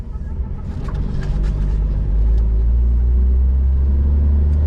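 A 1958 Rambler Cross Country Wagon pulling away on a hot day, with its engine rumble building steadily and a few faint knocks from inside the cabin.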